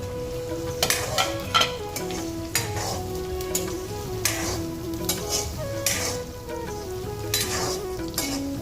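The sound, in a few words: paneer added to hot pan, frying and stirring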